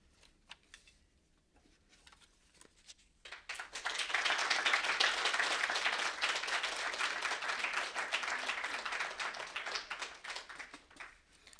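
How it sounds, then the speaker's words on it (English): After a student reading at a university English and linguistics event, the room is quiet, then audience applause breaks out and continues steadily as a dense, moderately close round of clapping that tapers slightly near the end. "Another round of applause for Emily."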